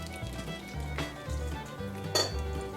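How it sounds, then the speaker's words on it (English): Tomatoes going into a crowded cooking pot for farm-style tomato soup, with a few clinks and knocks of pot and utensil over a faint low sizzle, close and fairly quiet. "Okay, we're adding the remaining tomatoes, and we're ready to start to cook it."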